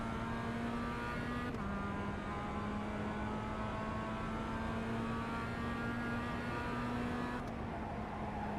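Mazda MX-5 Cup race cars on track at Summit Point Raceway, heard as a loud, steady in-car engine drone with a sustained tone that shifts briefly at two points like gear changes, with road and wind noise throughout.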